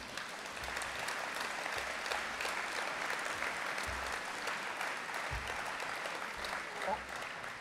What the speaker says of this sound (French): Alors je crois qu'on peut s'applaudir.